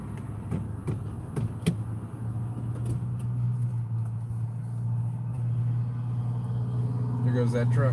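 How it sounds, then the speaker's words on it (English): A truck drives past on a road, a steady low engine rumble that swells gradually, with a few sharp clicks early on. "There goes that truck."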